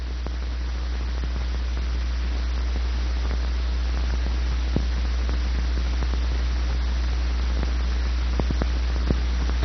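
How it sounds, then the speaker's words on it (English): A wood jointer runs through a short trial cut, heard as a steady, even motor drone with a broad hiss on top and a few faint ticks scattered throughout. "Start the machine, and with a trial piece about the same length as the stock,"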